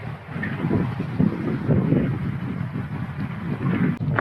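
Wind buffets a microphone outdoors at a running track on a clear day, a steady, close, low rumbling roar with gusty swells that fills the whole stretch.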